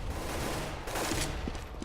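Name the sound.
gunshot in a Counter-Strike video game match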